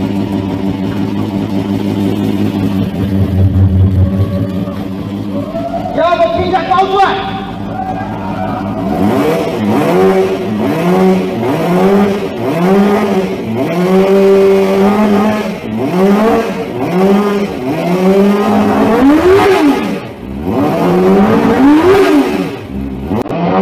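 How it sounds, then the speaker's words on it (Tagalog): A Club 400RR motorcycle engine idles low, then is blipped again and again in quick rising revs that fall back, loud and close, with no one talking. "ipaparinig ko sa inyo ang sound check ng engine ng Club 400RR"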